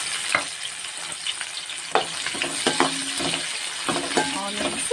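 Onions fry in a little leftover oil, a continuous crackling sizzle broken by irregular scraping stirs and light clatter, close and fairly loud with no voice.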